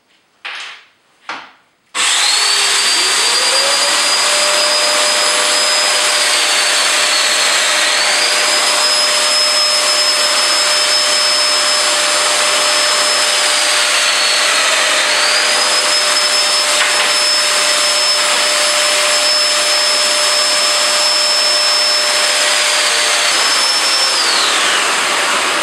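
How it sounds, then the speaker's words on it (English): A domino joiner with an 8 mm cutter cuts slots into the ends of wooden cross pieces for a trestle, a couple of short clicks giving way to a loud sustained whine with dust extraction roar and rising-falling cutting tones. "To start putting the domino slots in the ends of these cross pieces."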